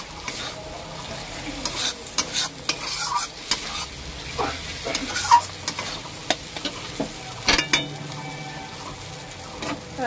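Spice paste cooking down in oil in a pan for a Bengali pangas fish curry, crackling and sizzling close up while a utensil stirs and scrapes in quick repeated strokes.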